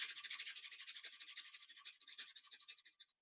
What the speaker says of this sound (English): Breathing in and out 10 times fast fire breath.